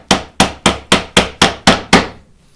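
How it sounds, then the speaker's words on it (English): A 1/2 inch chisel struck into white oak while hand cutting half blind dovetails, eight sharp, evenly spaced mallet blows up close, each ringing briefly before the next. "Now we want to chop down to this depth stop line."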